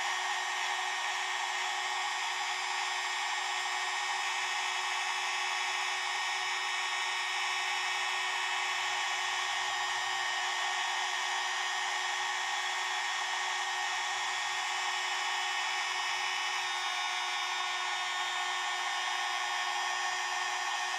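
A cheap $10 heat gun used for heat embossing blows hot air in a steady, loud, unbroken whoosh with a faint whine, running alone for about twenty seconds.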